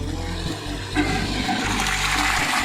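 A repaired farm water pump on a durian orchard sends water gushing out in a strong, steady rush, loud and close, with splashing turbulence throughout.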